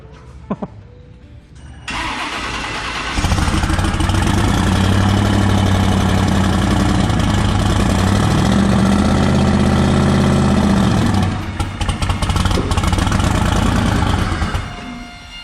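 Turbocharged LS engine in a 1956 Chevrolet Bel Air cranking and catching, then settling into a loud, steady, rumbling idle for several seconds before easing down, heard up close.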